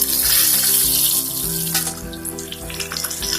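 Hot spiced oil tempering with dried red chillies poured over cooked greens (pannai keerai), giving a loud hissing splash that settles into a softer crackle and sizzle.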